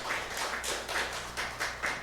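A church congregation claps for an elder during a service, a brief burst of rapid, overlapping handclaps at moderate distance with no voices over it.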